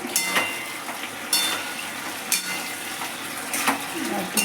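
Veg manchurian balls are stirred as they fry in hot oil, giving a steady bubbling sizzle broken by a few scraping strokes of the spoon against the pan, close by.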